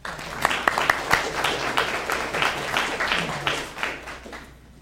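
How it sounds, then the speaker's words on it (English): A crowd at a NARCAN announcement event applauds with scattered claps building into moderate applause, with some voices mixed in, then fading out. "Let's give this guy a round of applause."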